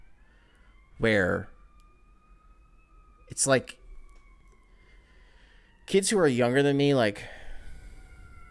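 Emergency vehicle sirens wail faintly and steadily in the distance, a thin rising and falling tone running beneath a person talking in short bursts.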